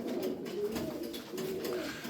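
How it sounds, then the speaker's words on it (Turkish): Domestic pigeons, fancy tumbler-type flying birds, coo in repeated soft rolling calls close by, fairly steady with brief pauses, no talking. "Harika kuşlar yemin ederim."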